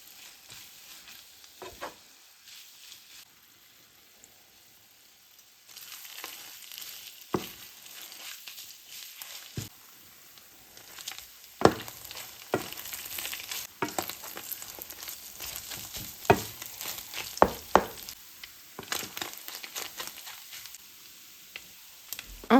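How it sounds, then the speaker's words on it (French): Chicken pieces browning in a pan over medium heat, a steady hiss of sizzling fat with scattered crackles and sharper stirring scrapes that grow busier partway through, close and continuous with no talking. "cuire jusqu'à ce qu'ils commencent à bien dorer. Ça prendra environ entre 5 à 8 minutes à feu moyen."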